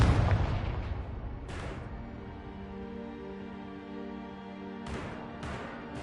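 Confringo fire spell exploding in Hogwarts Legacy, a sharp blast at the start that rings out into a long tonal decay, with two more bursts near the end.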